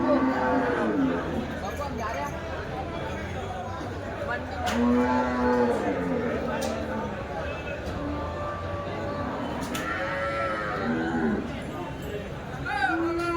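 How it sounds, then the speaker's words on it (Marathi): Several native Gavrani cows moo repeatedly, some long and drawn out, amid a busy crowd of chattering voices and general bustle at the Dhule cattle market in India. "आहेत गावरानी गाई"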